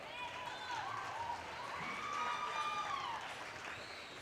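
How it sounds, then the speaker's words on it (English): An audience at a market steer show and showmanship event applauds a young cattle showman; steady, fairly faint clapping fills the arena while voices carry over it. "Let's give him another round of applause"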